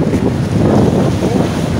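Waves break on a beach while strong wind buffets the microphone, giving a dense, loud, continuous rush of surf and gusts with no voices.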